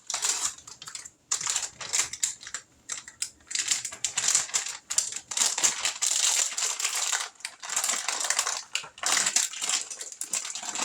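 A plastic bag of shredded cheese being torn and crinkled open, a busy run of crackling, rustling bursts lasting several seconds, close and fairly loud with brief pauses.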